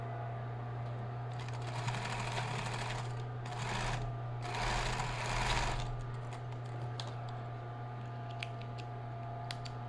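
A sewing machine stitches a seam on a maternity nursing bra, running in steady buzzing bursts of a few seconds with short pauses, fairly faint over a constant low motor hum, with no talking.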